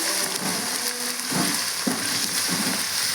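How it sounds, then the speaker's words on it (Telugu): Ginger paste fries in a pan with a loud, dense sizzle and three brief scraping stirs of a spoon. "ఇది కొద్దిగా పచ్చివాసన పోయేంత వరకు కూడా దీన్ని కూడా బాగా ఫ్రై చేద్దామండి."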